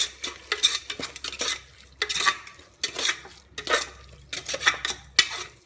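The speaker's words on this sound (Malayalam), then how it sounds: "ഉപ്പും കൂടെ ചേർത്ത് കൊടുത്ത് നന്നായിട്ടൊന്ന് മിക്സ് ചെയ്തെടുക്കണം" A spoon scrapes and clanks repeatedly against a metal pot while kabsa rice is mixed with salt, in irregular bursts of stirring with short pauses between, close and clear, no talking.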